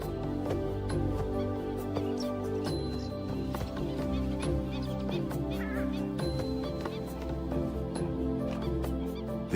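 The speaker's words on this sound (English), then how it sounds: "This is the purple swamp hen, also called the sultana bird, famed for its very loud, explosive call." Purple swamphen, also known as the sultana bird, in a Thai wetland giving loud, explosive calls, heard as repeated sharp bursts over a dense, steady background of other birds and wildlife.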